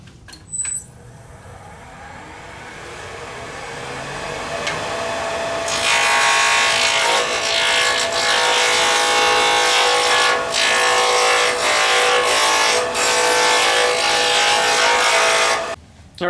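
Loud, continuous scraping and whirring of wooden pen blanks made from scraps being turned on a lathe between centers, building up after a quieter start and holding steady.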